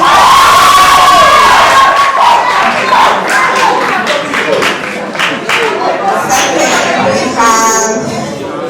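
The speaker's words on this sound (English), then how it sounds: "please give them a round of applause" At a school-style ceremony, an audience of many children cheers, shouts and claps for a student being named, loud and close, with voices ringing out over the clapping throughout.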